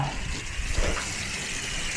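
Water from a hose rinsing soap suds off the sides of a car during a detailing wash, a steady broadband splashing rush that holds evenly throughout.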